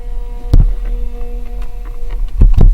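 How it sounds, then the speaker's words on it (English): A Mercedes car computer running solenoids during scan tool tests gives a steady low hum with a few soft thumps and clicks at irregular moments, close by and without talk. "You can hear all the computer running solenoids."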